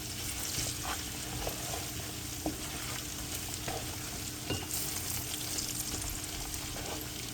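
African cassava leaf stew cooks in a pot, a steady close sizzle and bubbling simmer with faint stirring scrapes and occasional soft clinks, no voices over it.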